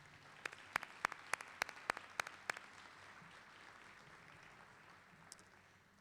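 A handful of sharp, separate claps ring out at a college commencement, about eight distinct hits over two seconds, then fade into quiet room ambience with one faint late clap.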